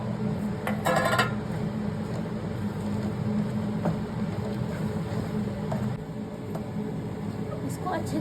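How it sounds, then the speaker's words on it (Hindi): A sesame, coconut and crushed-peanut mixture for tilkuta is stirred in a pan, giving faint scraping and a few light utensil clinks against a low, steady background hum. "इसको अच्छे से चलाते हुए सारी चीज़ों को मिक्स कर लेंगे।"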